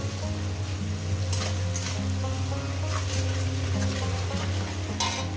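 Onion fries in a pan with salt, giving a steady, close hiss and sizzle that runs throughout, with occasional brief stirring scrapes and no talk.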